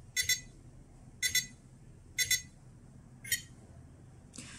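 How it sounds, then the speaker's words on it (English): An AT9S Pro radio transmitter's countdown timer sounds four sharp, high double beeps, each pair about one second apart, clear against a quiet background, with a fainter tone at the end. "In the countdown 10 seconds, it beeps twice every 1 second."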